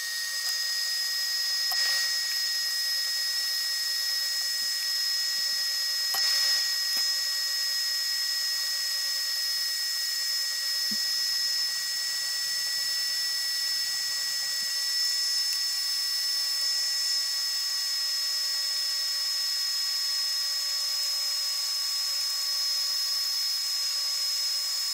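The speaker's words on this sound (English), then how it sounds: "So got the old handy dandy heat gun." A heat gun runs steadily while heating fuel tubing for a model jet fuel system, giving off a constant, close, high-pitched electric whine with a faint tonal hum and a few small clicks.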